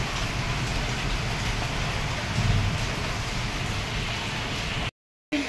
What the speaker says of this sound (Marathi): आता परत पाऊस चालू झाला आहे